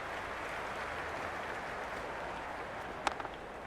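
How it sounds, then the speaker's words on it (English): Steady wash of crowd noise fills a cricket stadium during an IPL match, distant and diffuse, with a brief burst of claps and cheers near the end. "It's evident and ever so audible that the crowd is at near bursting point at today's play."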